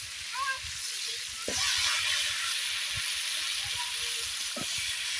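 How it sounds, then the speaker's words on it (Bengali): Shrimp sautéing with spices in a pan gives a steady, close broadband sizzle and hiss throughout, with a brief louder surge partway and faint clinks. "চিংড়ি মাছ কষাইছে মশলা দিয়া"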